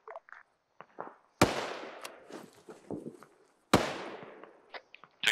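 Two sharp, loud gunshots in ArmA 3 about two seconds apart, each trailing into a rolling echo, with fainter scattered shots and small clicks around them.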